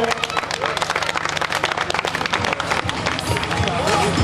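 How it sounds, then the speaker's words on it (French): Audience applause and crowd noise at a cycling race podium ceremony in Brest, with busy clapping under voices and a lively, rough hubbub throughout. "Applaudissements pour Gwenaël Simon s'il vous plaît, troisième de la soirée, meilleur animateur."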